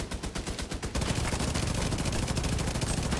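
A turret in a video game fires rapid bursts, first a short string of separate loud shots, then a dense sustained roar of continuous automatic fire filling the rest of the clip.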